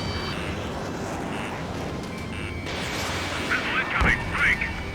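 Ace Combat 7 jet combat plays out with a steady roaring rumble of aircraft and gunfire, then a burst of louder crackling blasts as a missile fires. A radio voice talks over the noise.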